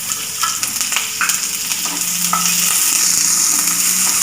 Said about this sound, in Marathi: कांदा भाजून घेते आता. अर्धा चमचा तेल घालायचं.